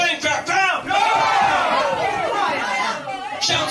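Crowd of voices crying out together in a rock opera, a sustained, loud wall of wailing and shouting that swells and holds with little pause.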